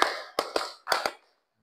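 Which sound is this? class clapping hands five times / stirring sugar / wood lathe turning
class clapping hands five times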